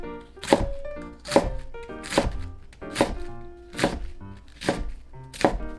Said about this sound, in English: Then slice the cabbage into 1 cm pieces.